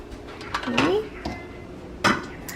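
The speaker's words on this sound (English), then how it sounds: "Get a nice scoop of everything in that and put it right over the rice." A ladle scoops chicken soup from a pot and pours it over rice in a bowl, with a couple of close clinks and scrapes of metal on cookware, partly under a voice.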